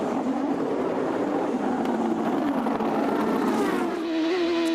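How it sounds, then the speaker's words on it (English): A 2006 Champ Car at the Surfers Paradise street circuit refires and pulls away from pit lane, its engine note droning then rising in pitch near the end over wind buffeting and a busy background. "They're going to have to refire that car. Now he's underway."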